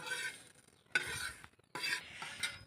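Coriander seeds and cumin stirred dry in a pan for a village-style spice powder, giving short bursts of scraping and rattling from a spoon against the pan, separated by quiet pauses, close and alone.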